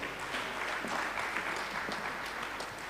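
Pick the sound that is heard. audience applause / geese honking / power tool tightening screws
audience applause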